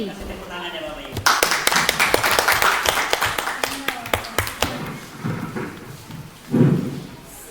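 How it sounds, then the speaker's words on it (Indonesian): At a school gathering, an audience breaks into scattered clapping, sharp separate hand claps that thin out after a few seconds, with murmuring voices and a louder thump near the end. "Kasih tepuk tangan ya Bapak Ibu."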